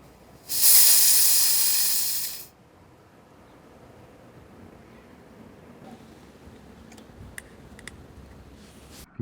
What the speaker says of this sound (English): Time for a refill, and I'm using my Edgun Leshy 9 bottle with a Scandinavian arms valve.